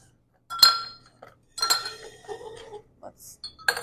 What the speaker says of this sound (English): Yeah, I got some ice for us.